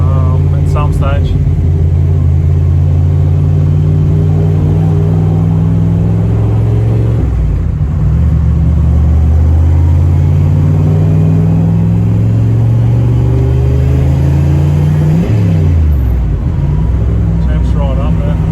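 A Holden Monaro engine with noisy valve tappers revs up and down in long, loud rising and falling sweeps, close up. A low rumble sits under the revs, and a voice may be heard over the engine.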